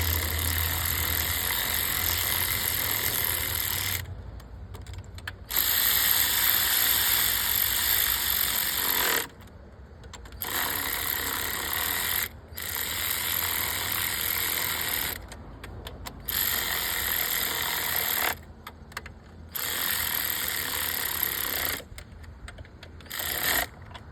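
Ratchet clicking as it runs down valve cover bolts on a Kia Sorento engine during a valve cover gasket job, with steady ratcheting bursts broken by short pauses, close and fairly loud with no talking.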